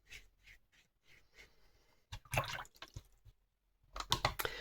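Watercolour paintbrush, a round number 10, rinsed in water, giving close, soft splashing and dripping in two short bursts separated by quiet moments.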